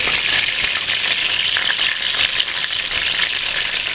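Beef tenderloin sears in pure butter in a pan, giving a continuous close, bright sizzle and crackle of frying that holds level from start to end.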